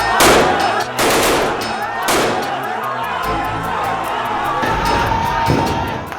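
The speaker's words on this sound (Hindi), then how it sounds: "AK-47 की गरज" Loud bursts of rapid AK-47 rifle fire crack out during a street clash in Patiala, over a noisy crowd with shouting voices and a sustained roar of commotion.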